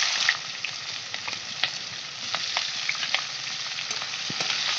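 Chopped onion and green chili sizzle in hot oil with bay leaf and cumin, a steady crackling fry with scattered pops and soft stirring, close and alone with no talk.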